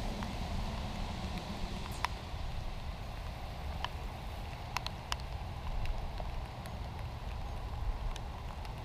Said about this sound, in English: And yeah, it's raining, right?